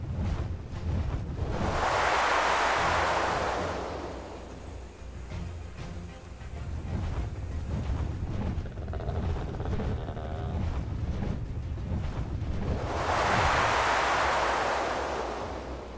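Ocean surf in the video game ARK Lost Island, heard while flying over open sea: two loud broad swells of crashing waves at the start and end, with a steadier windy wash between them and no voices.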